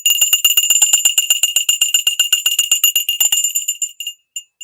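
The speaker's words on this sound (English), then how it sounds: "by ringing this bell." A small hand bell rings rapidly in a bright, continuous jingle of quick repeated strikes, close and loud, slowing and trailing off into a few last separate dings.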